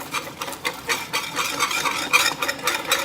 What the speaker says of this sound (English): Just keep on whisking.